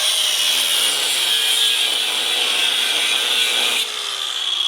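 Steady, high-pitched grinding of a cutting tool biting through a metal rivet head on a truck's rear suspension, continuous and close, easing slightly near the end.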